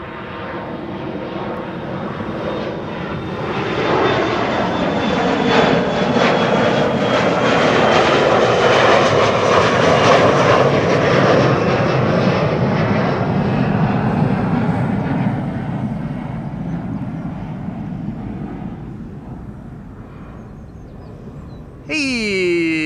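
An Emirates SkyCargo aircraft moves on the cargo apron at Amsterdam Schiphol, its engine roar building, peaking around the middle and fading away before a brief different sound cuts in at the end.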